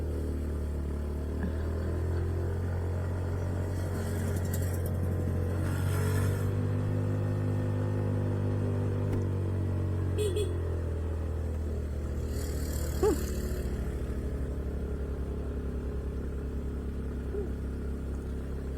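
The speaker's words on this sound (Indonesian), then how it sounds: "Mobil banyak yang gak kuat nanjak loh ternyata." Car engines labour up a steep uphill road near Karang Bokor, Sawarna, Banten, a steady low rumble and whir lasting throughout at moderate distance, with no talk.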